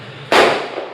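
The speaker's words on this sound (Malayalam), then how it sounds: "അപ്പം അങ്ങനെ പടക്കം പൊട്ടിക്കുന്നു" A single loud firecracker bang goes off nearby during Vishu celebrations, a sharp burst followed by a brief fading rumble.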